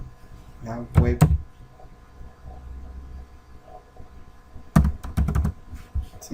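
A computer keyboard with a fault is typed on in two quick bursts of clattering keystrokes separated by a quieter pause, close up against a faint room hum.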